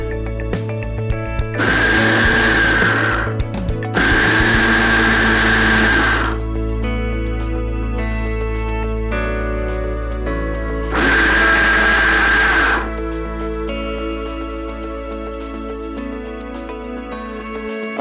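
A mixer grinder grinds soaked horse gram and tamarind for a mint chutney, running in three loud whirring bursts separated by pauses. A low steady hum continues between the bursts.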